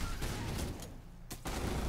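Sustained gunfire from the video game Starship Troopers: Terran Command, set in an urban battle against bugs, forms a dense, loud barrage that dips briefly before returning at full strength.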